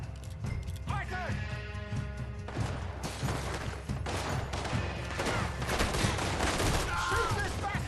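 A frantic gunfight in the video game Red Dead Redemption 2: dense overlapping gunshots and rapid fire, with horse hooves and crashing, while characters shout over the chaos.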